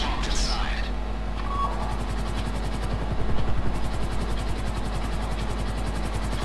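Helicopter in the video game GTA V Online during a heist raid finale, its steady rotor chop pulsing rapidly and continuously at close range, with a brief voice near the start and gunfire-like crackle mixed in.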